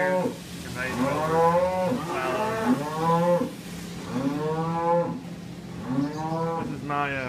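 Calves on a dairy farm moo repeatedly in long, drawn-out, strongly voiced calls close by, one after another with brief gaps, loud and clear with no talking.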